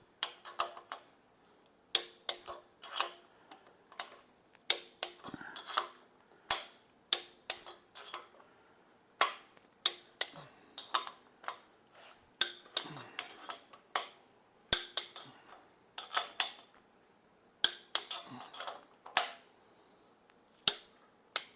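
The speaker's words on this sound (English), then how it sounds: "Don't snatch your torque wrench." A torque wrench clicks repeatedly while tightening aluminum cylinder head bolts, sharp metallic clicks in irregular clusters, close and crisp against a quiet background, with no talking.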